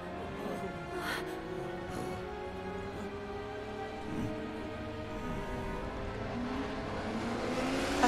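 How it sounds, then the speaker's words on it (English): A motorcycle engine in Final Fantasy VII Remake growls and revs continuously at moderate loudness, its tone shifting as it accelerates, over background game sound. "That sounds like a motorcycle."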